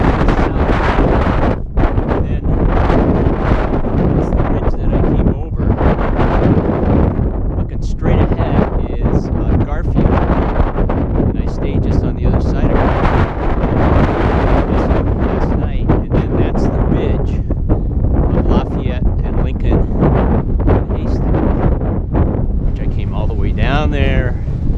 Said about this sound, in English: Windy up here, as you can tell.